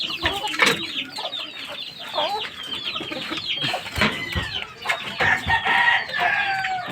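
A fighting rooster that has escaped its cage clucks and crows close by. Loud, broken calls come in quick bursts, with some brief background chatter.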